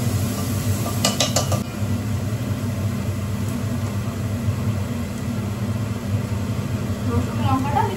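Onion and capsicum stirred while frying in a pan, a steady low sizzle and hum under a few sharp metallic clinks of the utensil against the pan near the start, close and fairly loud.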